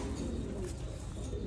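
Cooing from an American Giant pigeon sitting on its eggs, a soft low murmur running steadily under a constant noisy background.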